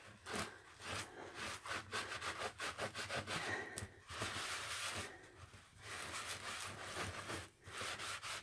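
Ink is wiped off an embossed art journal page with repeated close rubbing strokes in uneven bursts, separated by brief pauses.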